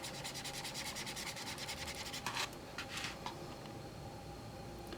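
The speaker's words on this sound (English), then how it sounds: "Like I can scrub and scrub and scrub and scrub." A watercolor pencil scrubs back and forth on paper in rapid, close, raspy strokes, a steady rubbing texture with a few sharper bursts and no voices.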